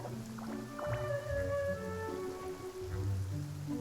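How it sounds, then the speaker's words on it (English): Continuous rainfall on a surface forms a steady wash, with faint tonal voice-like sounds drifting over it. "Perhaps today's rain arrived thanks to you."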